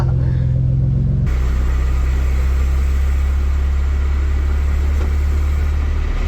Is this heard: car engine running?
yes